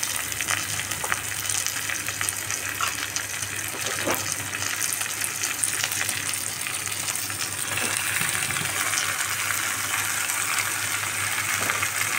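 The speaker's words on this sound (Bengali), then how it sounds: "এবার এর মধ্যে আমি ম্যারিনেট করে রাখা চিকেন দিয়ে দিচ্ছি।" Marinated chicken sizzles and fries steadily in a pan of browned onions, a loud, continuous crackling hiss with occasional splashy stirs, no voices.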